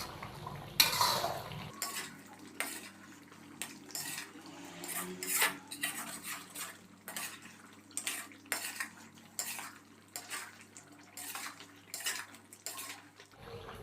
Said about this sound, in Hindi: मसाले शामिल करने के बाद हमने इसको अच्छे से मिक्स कर दिया।